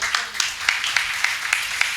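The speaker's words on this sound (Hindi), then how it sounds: "भाई होरां लई एक बारी होर ताली लाओ" An audience at a religious lecture claps in a steady, rhythmic beat, with sharp, evenly spaced hand claps repeating about three times per second over a continuous bed of clapping.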